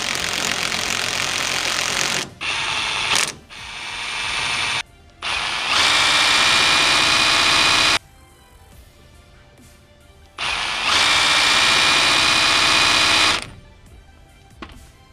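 An impact wrench spinning a ball joint nut on a vehicle's front suspension: loud, close bursts of buzzing, whirring rattle, several short runs and then two longer ones separated by quiet gaps.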